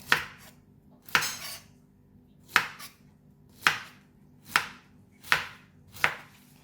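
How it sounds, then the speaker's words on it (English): A knife slicing pineapple on a cutting board, seven crisp evenly spaced chops ringing out about a second apart, close up with quiet gaps between strokes and no talking. "and cut it into half again. And remove the center core. And then just cut like that."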